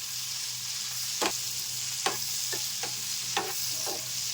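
Green chilies fry in hot oil for tamarind pickle, giving a steady sizzle with occasional sharp stirring scrapes against the pan, close and continuous, with no talking.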